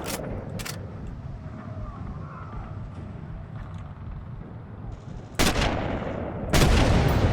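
In a Sniper Elite video game, Katyusha rocket launchers blow up in two sharp, loud blasts late in the clip, following a stretch of low, rumbling ambience.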